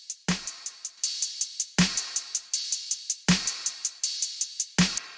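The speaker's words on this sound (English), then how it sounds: "After that, we've got a drum bus, which sounds like this." A crunchy beat runs through a saturated drum bus: heavy kick and snare hits roughly every one and a half seconds with bright, rapid hi-hat ticks between, loud and punchy with no voices.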